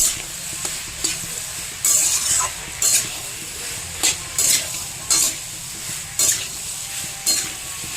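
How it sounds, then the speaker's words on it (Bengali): Ginger paste and potatoes stirred in a hot pan, a soft continuous sizzle broken by regular scraping strokes of a spatula roughly once a second, close and without talk. "এতে একটু মিশিয়ে নেবো আদা পেস্ট, দিয়ে সব শুধু একটু ভাজবো।"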